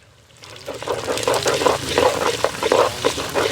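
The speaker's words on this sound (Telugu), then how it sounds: "ఎర్రగడ్డలు అయితే దోరగా వేగాలి" Onions frying in hot oil with garlic and curry leaves, a steady bright sizzle that swells after a quiet start and keeps crackling with stirring.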